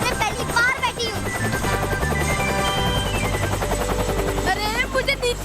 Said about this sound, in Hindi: मैं हेलीकॉप्टर में पहली बार बैठी हूँ।